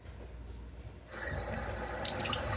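A kitchen sink tap opens and runs water to wet food, a quiet room tone giving way to a steady, close rushing stream that continues to the end.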